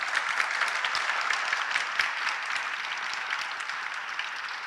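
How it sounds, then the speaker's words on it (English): An audience at a poetry reading afternoon claps steadily, a full, even round of applause from a crowd filling the room, with no voices over it. "So shall we give them a round of applause to welcome them?"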